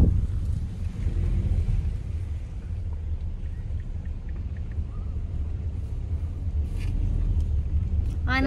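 A car's engine rumbles steadily from inside the cabin while riding along a road toward Tijara, a continuous low drone with road and wind noise throughout and no talk.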